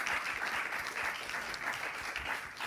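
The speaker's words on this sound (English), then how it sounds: "A big round of applause." An audience at a closing ceremony applauds a presenting team, a steady round of crowd clapping throughout the short span, fairly close and even in level.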